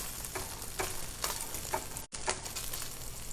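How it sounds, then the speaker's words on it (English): Bacon fries in a pan with a steady, close crackling sizzle, punctuated by a few soft clicks or stirring touches and one brief dropout. "Look at that bacon, nicely cooking up there."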